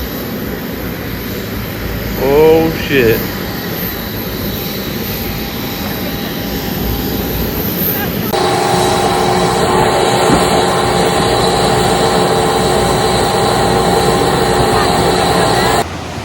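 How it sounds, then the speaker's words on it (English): A small passenger plane flying from Antigua toward the British Virgin Islands gives a steady, loud cabin drone of engine noise throughout, with a brief startled voice early on. "this is the little plane we're riding on"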